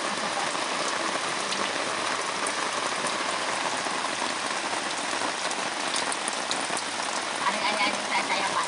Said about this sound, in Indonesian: Nuhan hujan.